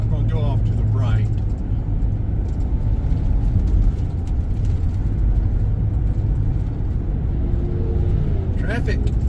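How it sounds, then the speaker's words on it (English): Steady road traffic rumbles around a car driving in Gainesville, Georgia, a continuous low engine and tire drone with vehicles passing, and a brief brighter whoosh near the end. "Traffic."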